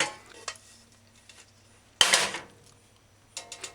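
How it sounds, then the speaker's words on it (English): A large saucepan set down on a stovetop for a vegan bok choy stew, one sharp metallic clank near the middle with a few lighter knocks and taps of kitchen utensils around it, no talking. "Next, put to heat a saucepan, a large enough saucepan for cooking."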